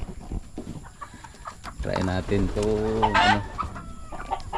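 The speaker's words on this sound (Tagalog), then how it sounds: "Mga manok na puti." White layer chickens cluck and squawk close by in a short, irregular burst, with a louder rising call near the end; a person talks quietly in the background.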